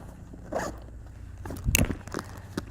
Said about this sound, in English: We close the zipper